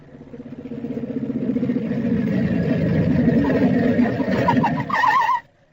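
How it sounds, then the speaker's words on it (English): A motorcycle roars along a road in a 1950 radio crime drama, its engine swelling steadily from quiet to a loud, sustained drone, then cutting off abruptly. "I heard a motorcycle roaring along the road"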